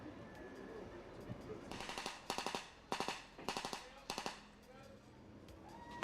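Bursts of gunfire during a tactical team training exercise, several clustered volleys of sharp shots in the middle stretch, moderately distant over an outdoor background.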